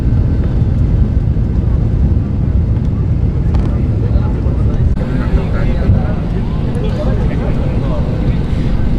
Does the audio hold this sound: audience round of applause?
no